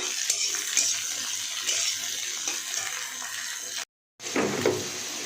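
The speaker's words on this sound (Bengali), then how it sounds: "এটাকে ভালো করে ভেজে নিই।" Spiny gourd with onion and shrimp frying in a pan, a steady broadband hiss and sizzle running throughout with a brief silent gap near the end before the sizzling resumes.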